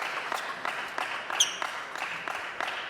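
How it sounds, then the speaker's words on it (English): An audience claps at a table tennis match, a run of scattered, fairly close applause with uneven rhythm over a few seconds, with faint crowd noise behind. "even the medical staff for the Chinese team behind Chun Chi clapping on Xu Xin"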